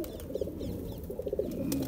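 Teddy pigeons cooing softly in short repeated bursts, fairly quiet and close, with faint chirps over low background noise.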